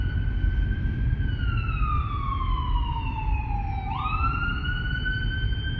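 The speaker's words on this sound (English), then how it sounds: "I got an ambulance coming up behind me." Ambulance siren in a video game, wailing steadily as it closes in from behind, its pitch sweeping down slowly and then jumping back up, loud and continuous over a constant rumbling engine and road bed.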